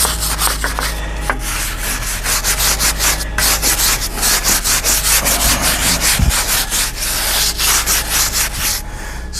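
Pearl paint is wet sanded and scrubbed by hand in steady, rapid back-and-forth strokes, a loud, continuous rhythmic rasping close up with a low hum underneath.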